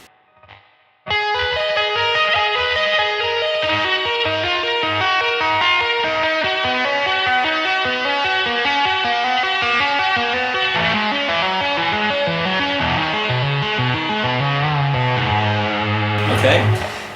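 An electric guitar with distortion plays a two-handed tapping lick, a continuous fast stream of bright repeating notes that runs alone and loud for about fifteen seconds.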